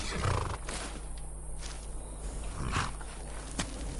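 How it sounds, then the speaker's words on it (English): Horse neigh and clip-clopping hooves in the video game Skyrim, a loud whinny near the start and again around the third second, with hoof steps between. "Oh! The horsey's arrived. Hello, horsey."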